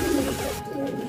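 A racing pigeon gives a short low coo nearby, brief and alone.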